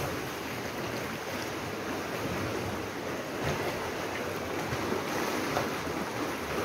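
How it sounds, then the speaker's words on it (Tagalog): Strong surf at Minasangay Beach Resort in Balangkayan, Eastern Samar, a constant broad roar of breaking waves with wind noise, steady and loud throughout with no voices. "Grabe yung alon."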